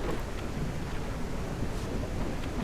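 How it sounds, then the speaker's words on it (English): Steady, roaring storm wind in a survival video game, a dense unbroken rush of noise that stays loud and even throughout, with no distinct thunder crack and no talking. "There is no reason that it should storm like this every day on here."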